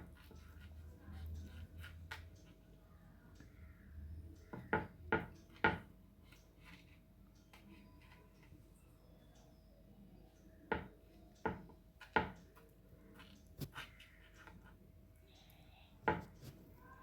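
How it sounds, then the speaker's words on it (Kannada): Sharp knife strokes cut through a slab of gram flour vadi into diamond shapes, landing as a quick cluster of three or four crisp taps, then scattered single chops after a pause, close and clear over a quiet kitchen background. "ಸೊ ಈ ಥರ ನಾವು ಕ್ಲೀನಿಗೆ ಕಟ್ ಮಾಡ್ಕೊಳ್ಳೋಣ"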